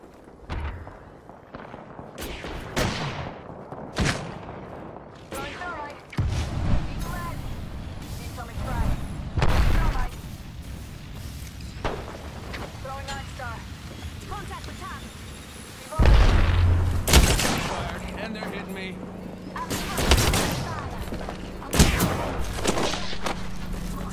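Gunfire and explosive bursts in the Apex Legends battle royale game, loud irregular volleys and single shots scattered across a busy firefight, with game voice callouts talking over them.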